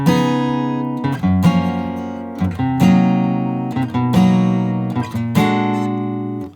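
An electric-sounding guitar plays an opening riff, with a sequence of ringing chords struck in a syncopated pattern, each stab sustaining briefly before the next, clear and close with no talking.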